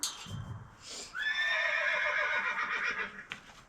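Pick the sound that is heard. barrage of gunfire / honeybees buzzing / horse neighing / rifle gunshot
horse neighing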